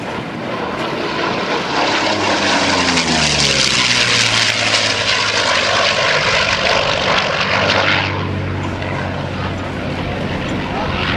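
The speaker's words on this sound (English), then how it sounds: "Sean Carroll dives in from the left in this very, very beautiful Yak-9 aircraft" A Yak-9 propeller fighter fitted with an Allison engine dives past at the 2009 AirPower Over Hampton Roads airshow. Its loud, close roar swells with a falling pitch as it passes, then eases into a steady fading drone.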